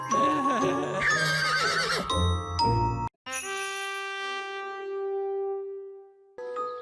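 A pink unicorn in an animated children's fairy-tale show whinnies in a long, ringing neigh, preceded by brief voices and light tinkling chimes.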